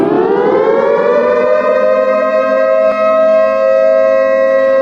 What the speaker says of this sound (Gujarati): સૌપ્રથમ આપણે એક સાયરનનો અવાજ સાંભળીએ.